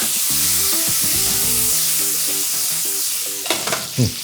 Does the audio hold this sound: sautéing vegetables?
yes